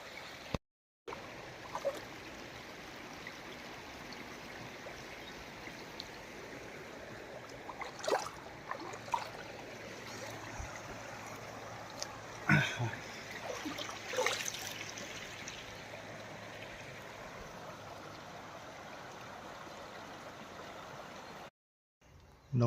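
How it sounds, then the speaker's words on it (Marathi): Maneri river in rural Konkan flowing steadily, a faint, even outdoor rush of water with occasional small splashes and bumps. "बघा आमची मणेरी नदी"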